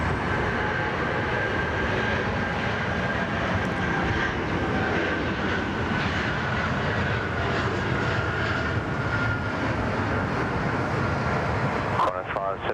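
A Qantas airliner bound for Johannesburg takes off from Sydney Airport, heard as a steady, broad jet engine roar that holds at even strength throughout, with talk faintly beneath it.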